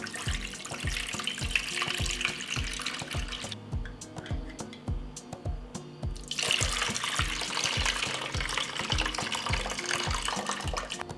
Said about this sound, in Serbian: tečnost iz tegle sipat ću u jednu šerpu